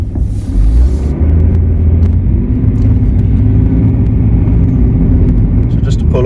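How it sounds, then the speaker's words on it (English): A BMW 530d M-Sport E60 diesel saloon with a six-speed gearbox pulls away gently, its steady low engine and road rumble continuous beneath someone talking throughout. "now we're on the move, you wouldn't know this was a diesel"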